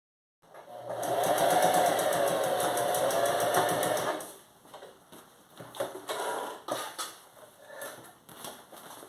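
A sewing machine stitches ric rac trim onto a fabric pencil case, running in one loud, steady burst of close mechanical whirring for about four seconds, then giving way to quieter handling clicks and rustles.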